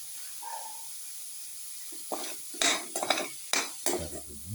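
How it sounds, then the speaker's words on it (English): A spoon stirs a garlic, winter melon and yogurt casserole mixture in a pan, giving several close, wet scraping and clinking strokes after a quiet start, with no talking. "Thoroughly mix."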